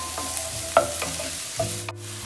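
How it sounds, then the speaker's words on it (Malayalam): Green beans stir-fried in a pan for restaurant-style mixed fried rice, with a light sizzle and a few sharp spatula clinks and scrapes, close and without speech. "ഞാൻ ഇതിലേക്ക് ബീൻസ് ചേർത്ത് കൊടുക്കുന്നതാണ്. ഇനി ഇത് നമുക്ക് ജസ്റ്റ് ഒന്ന് വഴറ്റി കൊടുക്കാം."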